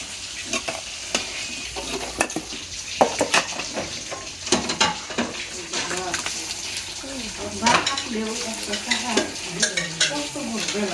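Pitha rice cakes fry in a pan in a village kitchen, with a steady sizzle under repeated scraping and stirring of the pan and clinks of utensils, while a voice talks throughout.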